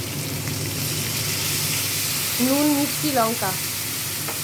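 Katla fish curry with potato, slit green chillies, ginger and cumin sizzles and fries steadily in a pan, a continuous frying hiss throughout, with a voice talking over it in the latter half.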